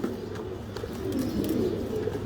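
Pigeons in a pigeon farm coo softly in low, repeated calls against a steady background hum. The sound is fairly faint and continuous, with no talking.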